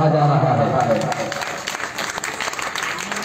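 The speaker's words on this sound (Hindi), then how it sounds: "ताली बजा के स्वागत करिएगा" An audience at a Ramlila stage performance claps loudly, a dense burst of applause that swells at the start and then thins into scattered clapping.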